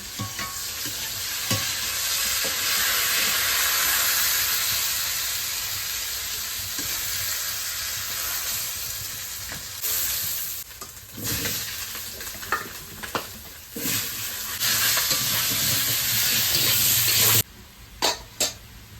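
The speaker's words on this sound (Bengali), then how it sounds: "পটলটা একটু ভালো করে ভেজে নেবো" Pointed gourd (potol) frying in a pan, a steady close sizzle with occasional stirring scrapes; the hiss thins out and breaks into gaps toward the end.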